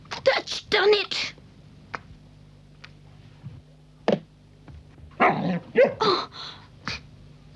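A puppy gives several short, sharp barks in clusters, close and fairly loud, with quieter gaps between them and a brief spoken exclamation.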